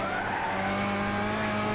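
Race car lapping a track in the video game Gran Turismo 6, engine droning steadily with tire squeal and skidding layered over it, loud and continuous throughout.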